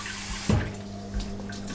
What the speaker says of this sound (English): Make sure you wash your rice